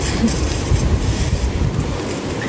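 Steady wind roaring across the microphone outdoors in a newly planted potato field, a constant loud rush with gusty buffeting and no clear voices.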